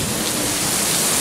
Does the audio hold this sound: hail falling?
yes